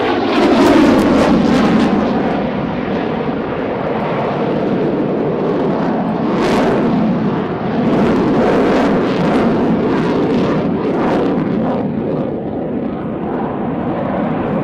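An F/A-18 Hornet jet approaches to land, its engine roar loud and continuous throughout, with a broad rushing whine that swells and shifts slightly as the aircraft nears.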